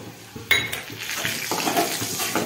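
Gram flour (besan) tipped into a pan of garlic frying and stirred, with spoon clinks against the metal and a light sizzle throughout, close and fairly quiet.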